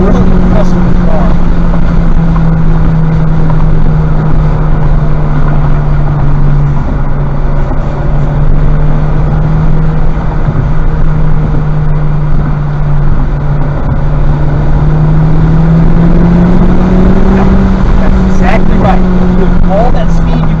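Honda Civic Type R accelerating hard around a race track on a track day, its steady engine drone rising and falling in pitch continuously throughout, with someone talking over the cabin noise.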